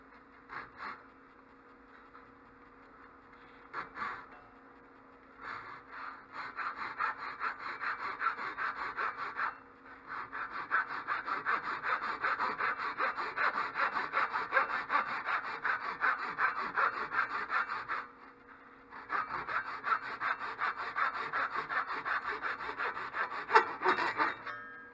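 A hand saw cuts into the wooden end of a Mohegan-style bow to carve a string nock, making steady back-and-forth rasping strokes in long runs, close and clear, with a few short pauses between bursts.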